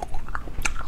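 Close, wet chewing and biting on a wax bottle candy filled with fruit jam in strawberry and pineapple flavours, a few soft crunchy bites in under a second with no talking.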